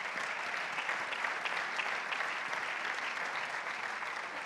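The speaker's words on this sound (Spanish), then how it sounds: "de aquí un fuerte aplauso a todas estas que nos precedieron" Hall of fame ceremony audience gives sustained applause, a steady wash of many hands clapping at moderate distance, continuous throughout without talk over it.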